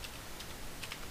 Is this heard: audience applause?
no